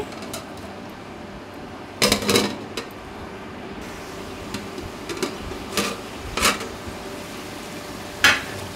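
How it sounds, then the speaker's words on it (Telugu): Chicken simmers in a pan for homestyle vankaya tomato curry, a soft low bubbling bed broken by several sharp scrapes and clinks of a spoon stirring against the metal pan. "చూడండి, చికెన్ అనేది ఈ విధంగా మగ్గుతుంది కదా."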